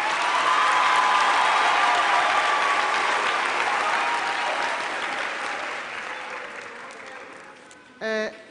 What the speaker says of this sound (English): Can we have another round of applause for friends and family?